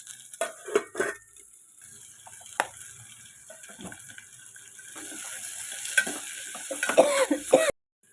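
Brinjal curry sautéing in a pan, a faint low sizzle punctuated by scattered knocks and scrapes of a spoon stirring, growing busier and louder toward the end before cutting off abruptly, no one talking.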